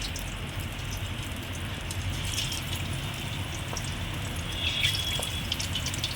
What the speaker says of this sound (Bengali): একটা একটা করে এই চিংড়ি মাছগুলোকে ছাড়বো বেশি ভাজবো না